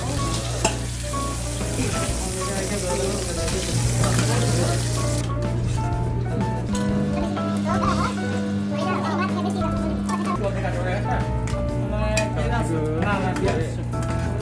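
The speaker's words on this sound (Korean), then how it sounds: "삶은 계란을 튀기고 있는 거야" Boiled eggs dyed with colouring fry in a pan of hot oil, a steady loud sizzle running throughout, with kitchen clatter, stirring and people talking over it.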